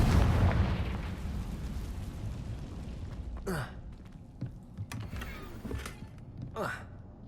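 A Confringo blasting spell in the Hogwarts Legacy video game, bursts and booms with whooshing magical effects scattered over a rumbling background, with a voice heard briefly.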